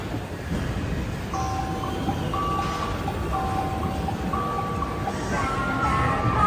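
A ride-on toy train hums along steadily while repeated electronic beeps and jingly tones play over a constant mechanical drone, close by.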